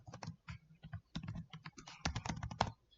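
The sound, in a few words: typing on a computer keyboard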